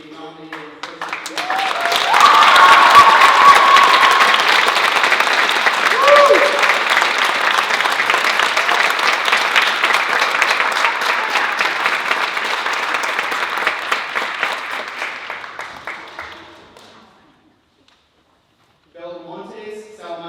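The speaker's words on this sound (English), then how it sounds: "Please join me in applauding Hunter Pearson for being nominated" Audience applause at a youth awards ceremony for a nominee, broad steady clapping from a full room that swells, holds for about fifteen seconds, fades out to silence, then a few scattered claps return.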